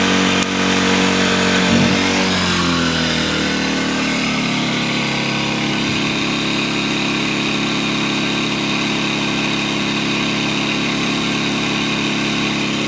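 A Kipor IG1000P inverter generator runs close by with a steady mechanical drone. Its pitch and load settle lower within the first few seconds, then it holds an even hum throughout.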